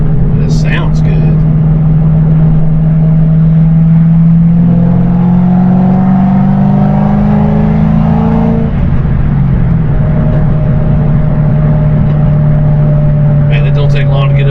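A 2006 Ford Roush Mustang GT engine drones steadily from inside the car while driving, its pitch climbing and easing back as it runs. People talk over the engine throughout.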